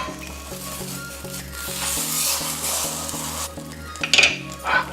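Monte Cristo sandwich sizzling steadily in a pan set just past medium heat after being flipped, a continuous frying hiss with a few clinks of a utensil toward the end and a low rhythmic background hum.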